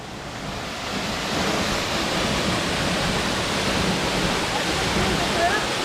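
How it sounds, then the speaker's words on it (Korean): Guryong waterfall in the Sogeumgang valley of Odaesan roars as a steady, loud broadband rush of falling water, swelling slightly in the first second and then holding constant. "야 여기가 그 유명한 구룡폭포입니다"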